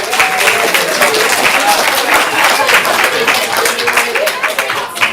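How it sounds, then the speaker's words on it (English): The audience at a ComedySportz Portland improv comedy show breaks into loud, sustained applause, a dense wash of clapping that carries evenly through the whole stretch. "Clap it up for yourself."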